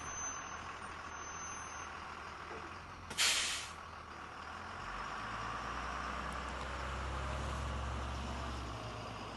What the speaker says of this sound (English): It was a bus driving itself.